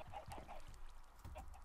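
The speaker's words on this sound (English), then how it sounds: "Oh, looks like a lot of chickens escaped." Chickens cluck repeatedly in the video game Minecraft, a busy overlapping run of short clucks with a low rumbling game background beneath them.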